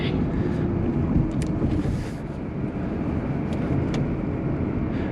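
A Lexus RX450H hybrid SUV accelerates on a highway while passing, heard from inside as a steady broadband road and wind roar with a rising hum and no talk.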